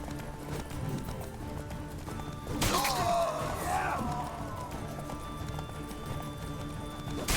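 Horse hooves clip-clop in The Witcher 3: Wild Hunt during a brawl, mixed with game sound effects and a whinny-like cry midway, over a steady background bed.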